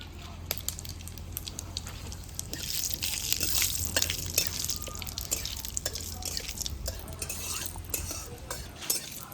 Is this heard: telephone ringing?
no